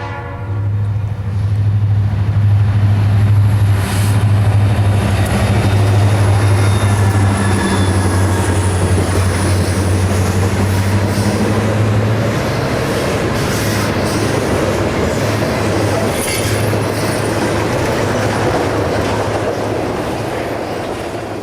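A westbound Conrail freight train rumbles past at Willowick, Ohio, with a loud, sustained roll of wheels and clattering cars, and a low horn tone holds through the first half before the noise slowly eases.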